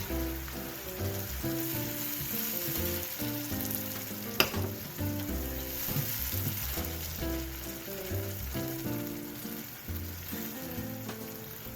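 Tomato puree splutters and sizzles as it fries in a pan for chicken tikka masala, a dense continuous crackle up close with one sharp pop partway through.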